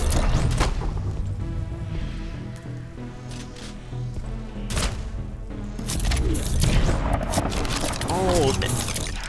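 Sniper rifle shots and explosions in the shooter game Prodeus crack and boom in sharp, scattered bursts over a rumbling low-end bed, loud and close, with a voice talking over the action.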